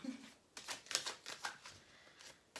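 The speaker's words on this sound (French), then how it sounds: "je vais aller voir dans l'oracle de l'union sacrée, qui est juste là, que je vais remélanger quand même un peu" Oracle cards are shuffled by hand in a few soft, quick riffling bursts with short pauses between them, close and quiet, with no talking.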